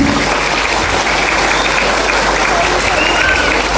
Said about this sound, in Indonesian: Tepuk tangan semangatnya dong.